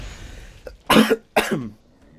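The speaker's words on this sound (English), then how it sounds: "the coughing fit ensues" A soft catch followed by two strong, close coughs in quick succession, each harsh and breathy, then quiet.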